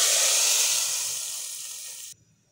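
Hot garlic tadka hitting dal, a loud, broad hiss and sizzle that fades steadily over about two seconds before cutting off abruptly into near quiet.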